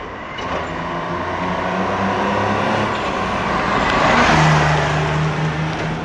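A day cab truck engine pulls steadily after shifting into gear, a loud close drone that swells and rises in pitch toward the end with a steady low hum throughout.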